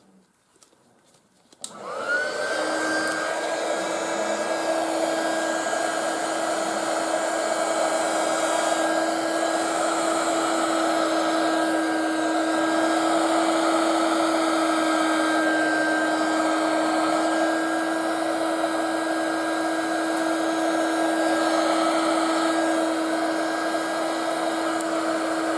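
A hair dryer switches on and blows steadily over resin art tinted with alcohol ink, a close, constant whine and rush of air that holds unbroken for over twenty seconds without talk.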